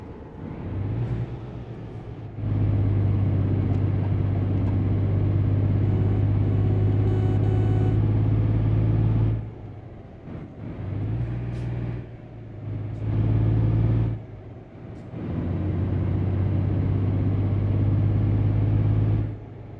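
A truck engine in Euro Truck Simulator 2 drones steadily at close range, its low hum dropping away briefly several times before returning to a sustained, even rumble.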